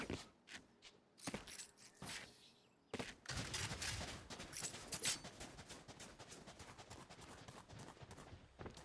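Rapid bursts of gunfire from a competitive Valorant esports match, dense rifle shots and thuds stacking up after a brief opening of scattered single shots, loud and continuous with no talk.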